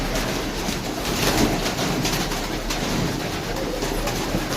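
Pigeons coo softly and repeatedly at a bird seller's stall, their low throaty calls mingling with steady background hum, with no talking.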